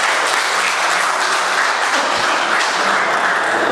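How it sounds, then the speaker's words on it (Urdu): Loud, dense applause from a mushaira audience in Sharjah fills the room with a continuous wash of clapping and no speech. "زوردار تالیاں."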